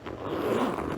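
A zipper slides open along the main compartment of a shiny Coach leather handbag, a short, quiet, close rasp lasting about a second.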